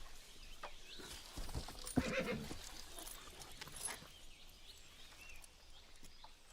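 A horse whinnies once, fairly faint and distant, amid soft hoof clip-clops and light outdoor ambience, with no clear talk.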